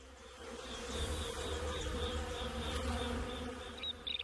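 Wild honey bees buzz around a flowering Calotropis plant, a dense continuous droning hum of many insects close by, steady throughout with no talking.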